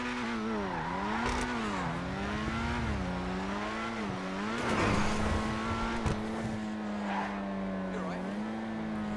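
An engine in GTA 5 Online revs up and down in several wavering sweeps, its loud droning tone rising and falling over about nine seconds, with a brief burst of noise midway.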